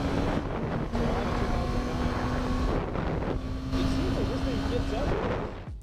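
A Yamaha R6 motorcycle on its first ride makes an abnormal noise: a steady, droning engine tone with a wavering whine and constant wind rush, loud and close throughout.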